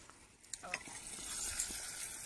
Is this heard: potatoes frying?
yes